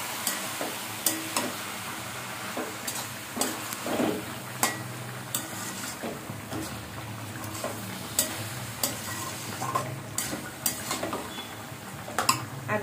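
Cauliflower fry being stirred in a pan, with steady clinks and scrapes of a utensil against the metal over a continuous low sizzle, close and fairly busy throughout with no talking.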